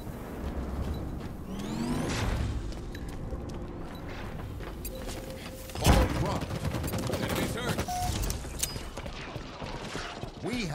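Gunfire from a Halo Infinite multiplayer match played with a ball objective: rapid, overlapping shots and mechanical weapon clatter run steadily throughout, with one heavy blast near the middle and faint in-game voices underneath.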